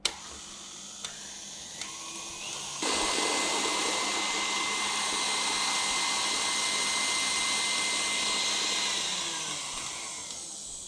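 Electric mixer whipping cream past stiff peaks for crème diplomat: a steady, loud motorized whir that rises to full speed after a few faint ticks and runs continuously before easing slightly near the end.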